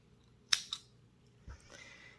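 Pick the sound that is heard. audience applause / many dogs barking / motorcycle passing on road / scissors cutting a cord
scissors cutting a cord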